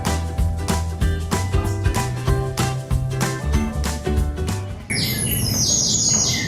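Bright bird chirps and tweets repeat rhythmically over a tinkling musical backing, then give way to a denser flurry of high squawking calls near the end.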